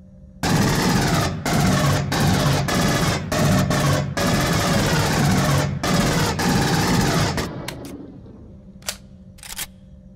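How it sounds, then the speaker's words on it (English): A pulse rifle in Aliens Colonial Marines fires long, rapid automatic bursts, loud and close, broken by brief pauses, then a few scattered single shots as the firing tails off. "something that bothers me about the pulse rifle is that the sound always sounds like it's firing in burst"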